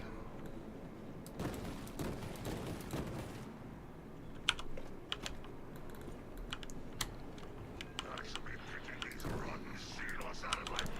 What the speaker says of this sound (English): I'm using the keyboard right now.